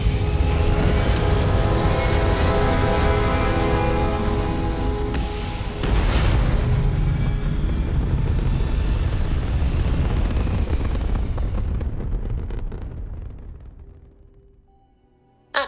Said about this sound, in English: Prepare for liftoff.